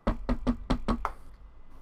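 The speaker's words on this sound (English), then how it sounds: "There's a knocking noise." Six evenly spaced knocks sound close and firm in quick succession on a door or hard surface during a Vampire: The Masquerade tabletop role-playing session, then fade into quiet room tone.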